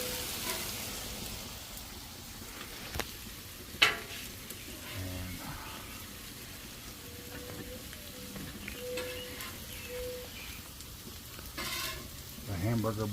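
Hamburger patties and onions sizzle on a Blackstone flat-top griddle outdoors, a steady close crackle and hiss with occasional scrape and clatter of a spatula, no voices.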